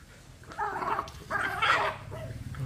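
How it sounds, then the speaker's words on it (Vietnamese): Dogs fighting in a rural yard in Ben Tre, giving two bursts of snarling barks and growls close by, separated by a short pause. "Để thôi, hàng chó tự chiến."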